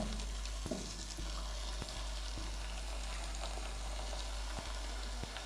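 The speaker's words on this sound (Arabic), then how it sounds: "المفروض نقلي الكميه دي كلها" Potato pieces frying in oil, a faint steady sizzle with occasional soft knocks and clinks, heard at a distance beneath a low background hum.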